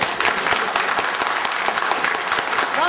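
Loud, dense clapping from a crowd of student doctors and guests at a health institute event, continuous and close for a few seconds.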